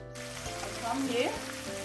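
Coated chicken pieces for homemade fried chicken frying in hot oil, giving a steady, close sizzle with slight swells across a brief stretch.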